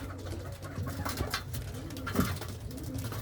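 Racing pigeons coo steadily as they pass into the loft after a training fly, soft layered cooing from several birds close by, with no talking.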